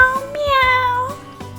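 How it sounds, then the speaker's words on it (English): A cat gives one clear, drawn-out meow with a rising then falling pitch, close and loud, framed by short bumps and clicks. "This is a cat."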